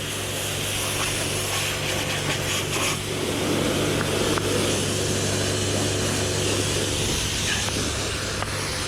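A bike wash nozzle on rinse setting spraying a Riese & Müller Delite Mountain e-bike, a loud, constant close hiss of water spray with a low steady hum underneath.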